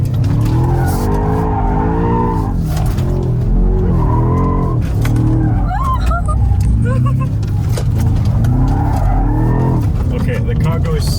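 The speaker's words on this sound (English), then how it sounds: "the car goes incredibly fast sideways" A BMW M5 G90 drifts sideways on tight roads, with a loud continuous engine roar and tire squeal that rise and fall, and a voice talking over it.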